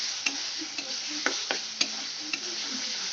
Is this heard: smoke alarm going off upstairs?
no